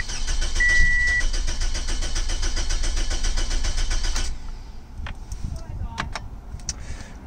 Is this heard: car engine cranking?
yes